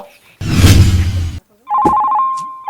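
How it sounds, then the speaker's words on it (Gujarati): A telephone rings with a loud electronic ringtone in a short burst, followed after a brief gap by a steady tonal ring with a clatter over it. "ફોન આવ્યો લાગે."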